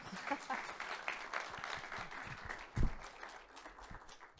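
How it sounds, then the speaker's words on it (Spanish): Audience applause welcoming a professor to a lecture on Gabriela Mistral, a moderate scatter of claps with voices murmuring throughout. "Un aplauso, por favor, para él."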